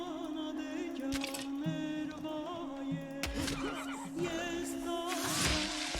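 A horse in the video game Old World neighs and whinnies loudly in several drawn-out calls with a brief clatter between them, close and alone with no talking.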